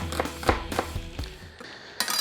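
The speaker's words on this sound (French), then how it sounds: "Ensuite les échalotes pareil, on va les faire en petits morceaux." A knife chopping shallots into small pieces on a board, a series of sharp irregular knocks, close and fairly loud, with no talk.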